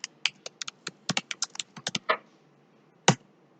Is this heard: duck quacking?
no